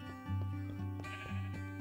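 A sheep in Minecraft gives a wavering, nasal bleat lasting about a second, close and clear over quiet background game ambience.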